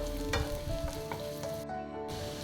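Finely chopped garlic sizzles in melted butter for butter garlic eggs, a dense, loud, continuous crackle with faint stirring scrapes and no talking.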